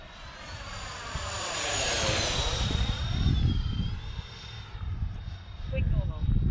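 A Freewing F-14 electric ducted-fan RC jet flies past with its wings swept back, a rising and falling whine of the fan with a Doppler sweep, loud and fairly near, with wind buffeting underneath.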